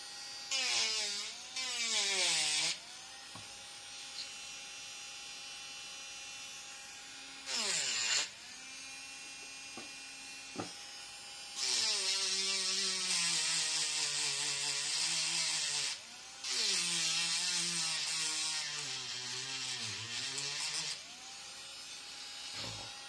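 A power sander works a resin-coated surface in several loud bursts of high whining, gritty grinding, separated by quieter pauses where the motor spins down.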